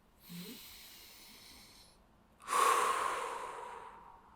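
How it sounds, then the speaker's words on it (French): A single deep breath drawn in through the nose, a long airy inhale heard alone and fairly close, followed by a louder, rushing breath sound. "tu inspires profondément du nez"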